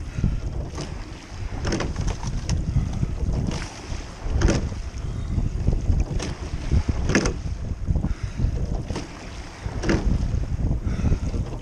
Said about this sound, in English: Listening to the sound of the boat.